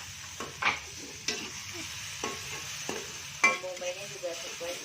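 Onions fry in a hot pan, a continuous moderate sizzle punctuated by several sharp clinks and scrapes of a utensil stirring against the metal.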